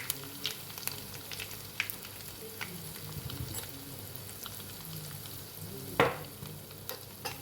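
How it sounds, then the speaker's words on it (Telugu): Ginger paste and chili powder fry in leftover oil for a fish pickle, giving a steady close sizzle with scraping stirs and a sharper clatter near the end, and no talking. "మిగిలిపోయిన ఆయిల్లో 3 స్పూన్ల వరకు అల్లం పేస్టు, 3 స్పూన్ల వరకు కారం"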